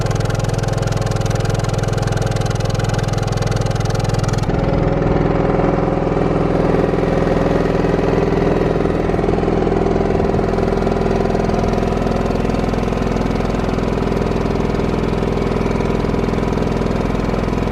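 An Onan Cummins QG 2500i LP propane RV generator runs steadily with its exhaust routed out the back below the bumper, giving a continuous, loud, even hum and purr that shifts slightly in tone partway through.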